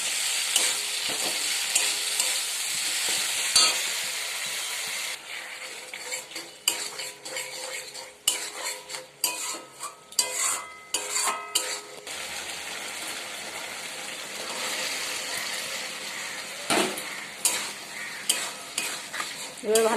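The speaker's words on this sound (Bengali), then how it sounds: "এবার ভালো করে নেড়ে মশলাটা কষবো।" Masala frying in a pan with tomato, turmeric, cumin, chili and coriander powder. A steady loud sizzle for the first few seconds gives way to repeated clattering scrapes and knocks of a spoon stirring against the pan.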